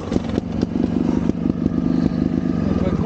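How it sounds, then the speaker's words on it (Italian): An enduro motorcycle passes along a rough, trial-like trail in the countryside, its engine a steady loud drone with rhythmic clattering bursts throughout. "Qualcuno in moto c'è ancora allora?"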